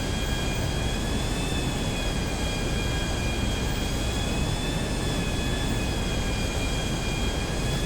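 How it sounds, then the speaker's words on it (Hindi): The engine of a private jet in GTA V roars as a constant, dense, loud whine with a broadband rumble, steady throughout with no talk. "ये हो गया हमारा प्राइवेट जेट। चलो यहाँ से निकलते हैं।"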